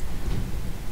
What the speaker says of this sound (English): Multi lightning strikes.